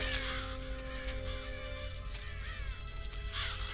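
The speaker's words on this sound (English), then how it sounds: "And the birds swarm him." A flock of birds swarming a man in the video game Metal Gear Solid The Twin Snakes, with harsh crow-like caws and squawks overlapping across a steady rumbling background.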